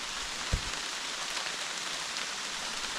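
Rain falling in a soft continuous patter and hiss, faint and steady, with a single low thump near the start and no voices.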